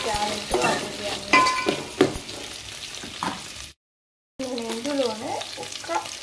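Green peas, carrots and mixed vegetables fry in a pan for children's lunch-box rice, with close stirring scrapes and a steady sizzle, then a brief silence before the frying resumes with more stirring.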